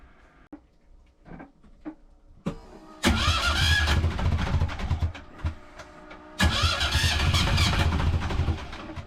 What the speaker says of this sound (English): the time has come to start the engine and see if the alternator is okay